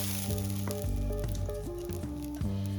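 Rice for Basanti pulao sizzles steadily in a hot pan as it is stirred, with scraping and shuffling strokes breaking in every half second or so over the continuous frying hiss.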